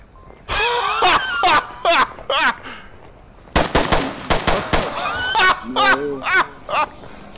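Gunfire in the Onward VR multiplayer shooter: bursts of rapid automatic fire and sharp single shots, loud and close, clustered heavily near the middle, with players talking and shouting over much of it.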